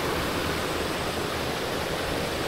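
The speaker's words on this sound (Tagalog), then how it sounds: "Oh my God, ang ilog." A mountain river rushes past nearby, a loud, unbroken broadband roar of flowing water with no pauses or voices.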